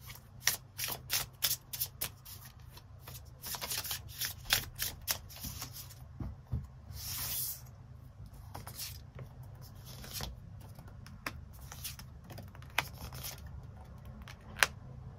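Tarot cards shuffled by hand at close range in a quiet room, a run of crisp riffling bursts and soft sliding rubs over a low hum, gradually thinning out toward the end.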